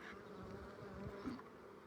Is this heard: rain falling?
no